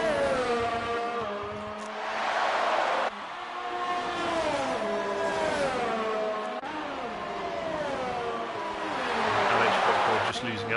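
Race cars howl around the Russia circuit in a sim racing game, with engines rising and falling through gear shifts in steady sweeps and a commentator talking over the continuous close roar.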